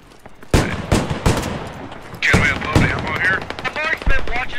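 Automatic gunfire in the tactical shooter game Squad: loud, rapid bursts of shots up close early on, then a voice talking over continuing scattered shots and game noise.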